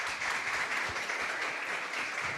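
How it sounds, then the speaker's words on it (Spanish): A small group applauds at the close of a university discussion meeting, a steady, fairly soft wash of clapping that holds for a couple of seconds without talk. "Un aplauso."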